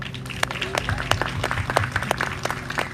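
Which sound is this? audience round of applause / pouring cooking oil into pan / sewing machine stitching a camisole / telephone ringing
audience round of applause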